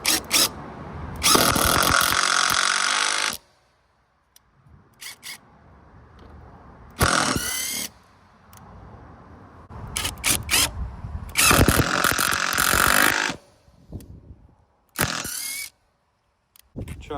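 Hyper Tough 12V brushless impact driver driving a screw, loud close bursts of whirring and rapid hammering in several separate runs with quiet gaps and small mechanical clicks between them.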